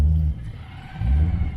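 A classic car's engine revving at a retro car show in Rouen, two deep rumbling surges of throttle separated by a brief lull, close and loud.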